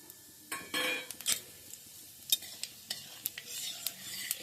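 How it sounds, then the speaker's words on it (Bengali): Whole spices (black cumin, fennel, cumin, fenugreek, mustard and coriander seeds) frying in hot oil for a red chilli pickle, a soft sizzle under repeated stirring scrapes and clinks of a utensil against the pan, close up, with no talking. "এবার এটাকে একটু ভেজে নিচ্ছি"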